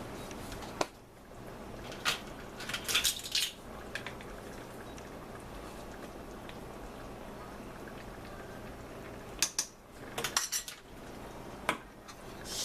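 Meat sauce with dried oregano gets stirred in a pot, with a few bursts of metal spoon clinks and scraping against the pot over a quiet simmering background, otherwise mostly still.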